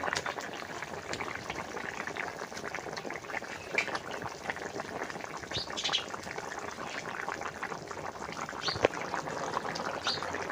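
Fish curry broth boils steadily in a pan, a constant close bubbling with small pops. Faint background sounds come and go throughout.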